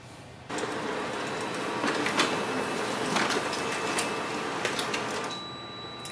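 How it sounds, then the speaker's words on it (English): A Canon imageClass MF453dw laser printer runs through a print job, starting abruptly with a steady mechanical whir and paper-feed rumble, punctuated by clicks and brief sharper transients, close and fairly loud, no talking. "So I'm just going to print this one."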